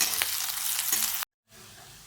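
Chopped onion fries in hot oil with cumin and mustard seeds, a close, steady sizzle that cuts off abruptly and then comes back softer.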